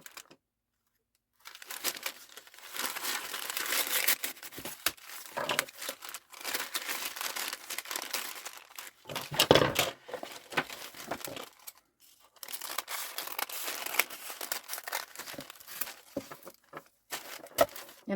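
Paper torn along a ruler edge for a junk journal: repeated crinkling, ripping passes with short pauses between them, close and fairly quiet, no talking.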